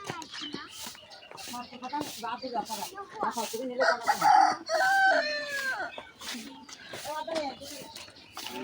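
A rooster crows once in a village through a stretch of continuous nearby talking, its call rising clearly above the voices in the middle.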